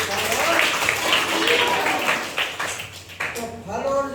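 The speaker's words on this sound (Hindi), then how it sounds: "शाबाश, ताली बजाइए।" Children in a classroom clap for a student, a burst of applause over a teacher's voice, mixed with talk throughout.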